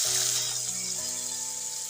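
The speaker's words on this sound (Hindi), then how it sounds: "अब इस घी में डाल रही हूँ मैं आधा कप चने की उबली हुई दाल।" Boiled chana dal sizzles and fries in about three tablespoons of hot ghee in a pan, a steady, close crackling hiss that holds evenly throughout with no voices over it.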